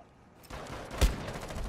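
Desert Eagle long shot in a shooter video game: a low rumble swells, then a single sharp, loud gunshot cracks, followed by a lingering noisy tail.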